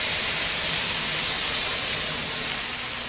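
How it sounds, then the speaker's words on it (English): Water poured onto a hot griddle beside burgers and covered, steaming with a loud, steady, close broadband hiss that fills the whole moment without pause. "It actually steams the edges of the burger, so it helps to cook the burger evenly"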